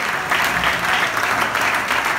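A church congregation claps and applauds during a sermon, a dense, steady wash of applause filling the whole moment.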